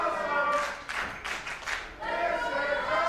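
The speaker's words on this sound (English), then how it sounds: "But listen to this crowd." Crowd at a live wrestling show in Azusa, California clapping and applauding in bursts, loud and close, with crowd noise swelling between the claps.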